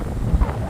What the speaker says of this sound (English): it's very windy and blowy.